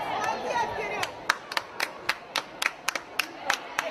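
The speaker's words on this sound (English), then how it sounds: "The Zenit fans applauding their work rate here." Zenit youth football fans at an under-14 Riga Cup match against Tottenham give a scattered burst of claps, a dozen or so sharp individual hand claps spaced irregularly over crowd murmur.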